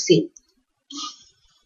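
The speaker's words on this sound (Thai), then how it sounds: "กด F6 ที่ปุ่มคีย์บอร์ด" Pressing the F6 key on a computer keyboard while animating in software: one crisp, close keystroke click, then a second softer click after a pause, nearly silent between.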